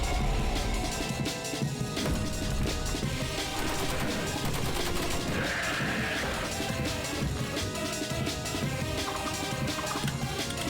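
Gunfire in a Friday Night Funkin' cutscene as Hank attacks Tricky, with dense rapid bursts of shots layered over a loud, busy game mix that runs continuously from start to finish.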